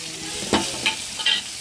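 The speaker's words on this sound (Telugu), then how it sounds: "టమాటా ఉల్లిగడ్డ పచ్చిమిర్చి అయితే బాగా ఫ్రై అయిన తర్వాత అయితే మసాలా వేసుకున్నామండి" Tomatoes, onions, green chillies and masala fry in a pan while being stirred, a steady close sizzle broken by a few brief scraping strokes of the spoon.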